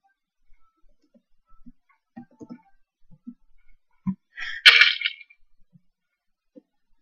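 A player falls in a Minecraft Hunger Games match on PC: sparse soft game clicks and taps, then one short, bright crunching thud rising out of near silence.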